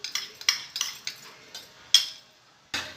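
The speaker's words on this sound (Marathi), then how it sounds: "रवा चांगला लाल होईपर्यंत आपण तुपामध्ये भाजून घेऊया" Semolina roasting in ghee while a spoon stirs it around a metal pan, making a run of close scraping strokes and light clanks in an uneven rhythm, with one sharp knock toward the end.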